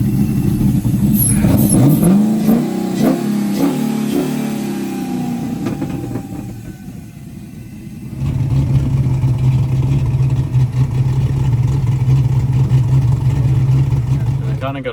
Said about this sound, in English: So for some reason the car is now running perfectly fine again.